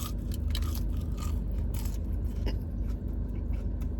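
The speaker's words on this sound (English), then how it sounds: "Last little bit of these fries here. Take another bite for y'all. Peep the crunch." Crunchy bites and chewing of burger and fries from Florida Boy Burger Co., close to the mic, with repeated crisp crunches over a steady background hum and no talking.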